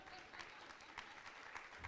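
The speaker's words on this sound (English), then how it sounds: "we're going to applaud for my friend Matt Broussard" Brief, quiet applause at an engineering and public works award ceremony for Matt Broussard, a small group clapping in an uneven patter.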